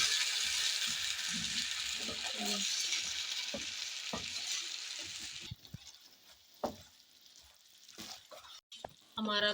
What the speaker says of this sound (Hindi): हमारा गुड़ अच्छे से मेल्ट होता जा रहा है।